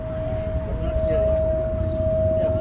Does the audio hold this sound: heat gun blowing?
no